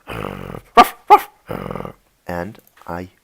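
Recorded dog sounds played for a class, a series of short growls and whimpering yelps in quick bursts, loud and close, with brief pauses between them and no talk.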